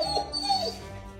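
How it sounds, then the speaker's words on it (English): A nervous dog whimpers in a short, high, wavering whine that lasts about a second, close by with a low rumble of background noise. "We have an emotional dog."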